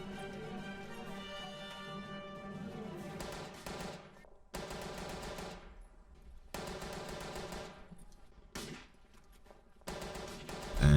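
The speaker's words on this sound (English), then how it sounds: "Here you see me as a Belgian gunner using the Hotchkiss machine gun." A Hotchkiss machine gun fires in the World War I shooter Verdun, with long sustained bursts of rapid rattling fire broken by brief pauses, loud and continuous with no talk over it.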